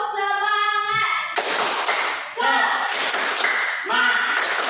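Schoolchildren in an Indonesian classroom perform the 'tepuk semangat' rhythmic clap, with several sharp bursts of group clapping and thumps separated by voices calling out.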